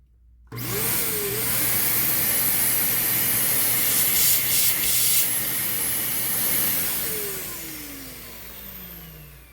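A refurbished Dyson DC15 vacuum cleaner switches on with a quick whirring ramp-up, then runs steadily with a loud airy hiss and high motor whine before spinning down.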